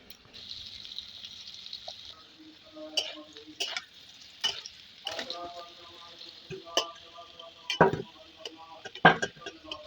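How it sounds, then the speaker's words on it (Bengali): Potatoes fry in a pan while being stirred, giving a steady sizzling hiss broken by scattered clinks and scrapes of the utensil against the pan. "তো চলো আলুগুলো লাল লাল করে ভাজা হয়ে যাক"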